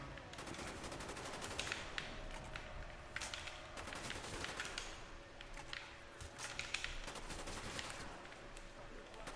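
Repeated gunshots and short automatic bursts in the Call of the Dead zombies map of Call of Duty: Black Ops, played solo, come in quick irregular clusters against a steady background of game noise.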